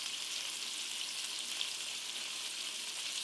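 Meatballs fry in a pan with a steady, even hiss and sizzle that stays constant and fairly quiet, with no voices.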